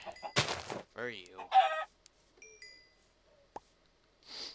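Chicken clucks from a Minecraft plains biome, several short bursts of clucking and squawking, fairly close and clear, alternating with brief game sound effects and quiet gaps.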